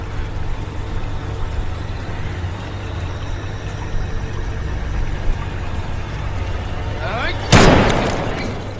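A single sharp, loud gunshot bursts out near the end of a tense film climax, cutting through a steady low rumbling score before ringing away.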